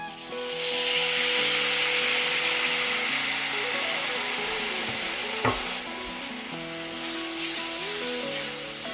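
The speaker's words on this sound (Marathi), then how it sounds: "आपल्याला हा मसाला कंटिन्यू हलवत राहायचंय कारण जळू शकतोय" Dabeli masala being stirred continuously in a hot pan makes a loud, broad sizzle with scraping throughout, one sharp knock in the middle, and melodic music playing underneath.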